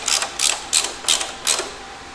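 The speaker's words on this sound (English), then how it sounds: "I'll tighten this back bolt up." A rear bolt on a 1972 Harley-Davidson FLH Shovelhead motorcycle is tightened with a ratcheting tool, five quick, faint clicking bursts in an even rhythm, close by with no talk.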